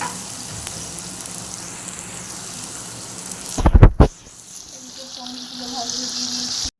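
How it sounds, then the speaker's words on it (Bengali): Rice grains frying in hot ghee, a steady sizzle with scraping stirring, rising to a burst of loud clattering and spatter near the end before settling back into a quieter hiss. "এই যে গরম ঘির মধ্যে যে চালগুলো সব দিয়ে দেবো দিয়ে ভালো করে নাড়াচাড়া করতে হবে"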